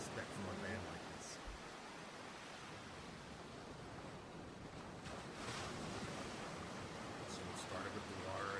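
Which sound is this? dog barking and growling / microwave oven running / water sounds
water sounds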